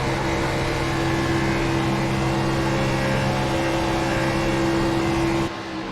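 On-board engine drone from the 24 race car running second in a race, a steady, loud, unbroken hum held at constant revs for several seconds, cutting off abruptly at the end.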